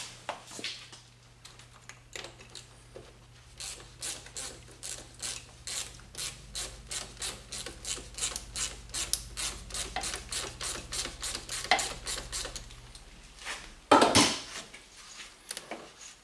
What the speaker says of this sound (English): now we can remove this air intake hose here